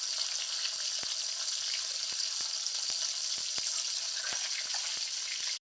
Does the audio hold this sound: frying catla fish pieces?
yes